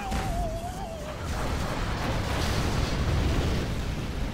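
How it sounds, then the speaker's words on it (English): Artillery fire landing on a war factory in a real-time strategy game, a continuous loud rumbling barrage of explosions with a brief whistling tone at the start, steady and close throughout. "artillery from me. Got it placed on that war factory"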